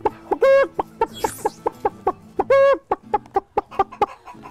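Hens clucking at an agricultural fair in Sobrarbe, with repeated short clucks in an uneven rhythm and a few louder drawn-out squawks, close and fairly loud.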